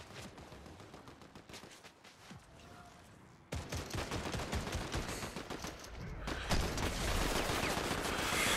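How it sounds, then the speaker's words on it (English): Rapid automatic gunfire in the Fortnite battle royale game, with dense bursts of shots going off continuously and getting noticeably louder and closer after a few seconds. "Why y'all shooting at me?"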